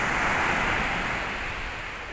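Sea waves wash continuously along a Turkish shore, producing a steady, full hiss of surf that slowly eases slightly in loudness, with no voices.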